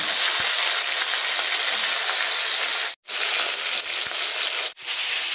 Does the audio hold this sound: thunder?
no